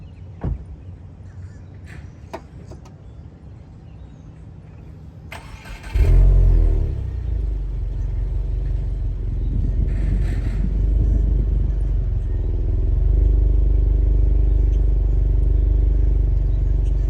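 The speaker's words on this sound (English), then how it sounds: "let's take a listen to the exhaust" A 2022 Subaru WRX with a 6-speed manual is heard up close: after a quiet stretch, its engine fires up loudly partway through, then settles into a steady, throaty exhaust rumble at idle. No talking.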